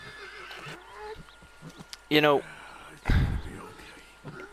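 A horse in Red Dead Redemption 2 gives a loud, quavering whinny midway, followed by a heavy thump or stumble, with someone talking intermittently around it.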